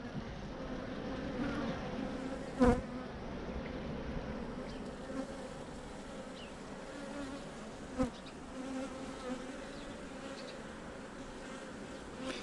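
Worker honeybees buzz around their hive as they bring in nectar, forming a steady, droning hum with individual bees passing close now and then. There is no talking.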